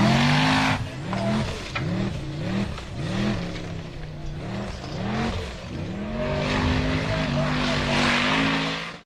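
White off-road buggy number 121 roars up a steep sandy hill, its engine rising and falling in repeated surging revs as it claws for grip, then holding a higher sustained pitch near the top, loud and close.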